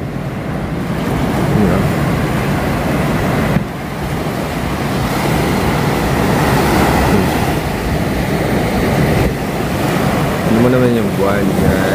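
Sea waves wash steadily onto a beach at San Juan, La Union, a continuous close roar of surf mixed with strong wind buffeting the microphone, without a clear break in the noise.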